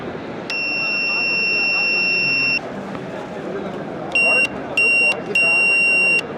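An electric buzzer alarm built into a wall switch unit at a building construction expo gives one long steady tone, then three shorter bursts, loud over a murmuring hall crowd.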